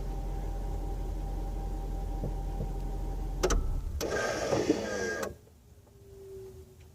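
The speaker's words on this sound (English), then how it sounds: "you'll hear the parking brake engaging when I turn the car off" A Jaguar XJ8 electric parking brake with a park brake fault engages after the engine shuts off, a whirring mechanical motor burst over a steady hum that stops abruptly, followed by near quiet.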